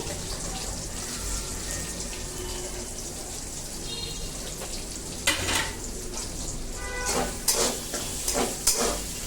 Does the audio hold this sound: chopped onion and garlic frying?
yes